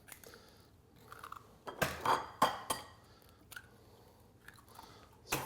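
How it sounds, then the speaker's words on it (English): Six eggs cracked one after another against a bowl in a home kitchen, a few sharp taps and cracks clustered close together, fairly near, with soft clinks of shell and bowl between them and no talking. "I think I'll use about 6 eggs for this. So crack them."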